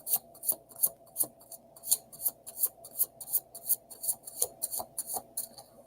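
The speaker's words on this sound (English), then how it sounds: "Wow, that was a good shuffle." Rapid rhythmic riffling and snapping of tarot cards being shuffled, a quick run of crisp flicks repeating close up, with no talking.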